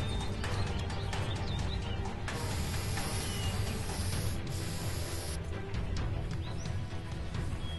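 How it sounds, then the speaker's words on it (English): Spray can hissing in long bursts as gang tags are painted on a wall in the Call of Juarez: The Cartel video game, steady and close over a busy background of game ambience. "Tag spraying time."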